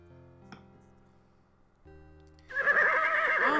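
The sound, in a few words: horse neighing in a Robin Hood video game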